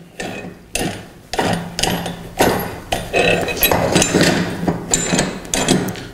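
A rim clamp on a manual drum trolley with an electric lift is adjusted and lowered, giving a series of sharp metallic clanks and knocks at close range, with a steady mechanical clatter between the hits.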